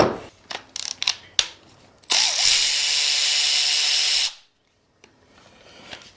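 A power tool whirs steadily for about two seconds as it backs out tiny Allen bolts from a Toyota 2JZ engine head, set between scattered clicks and clanks of nearby handling in a workshop.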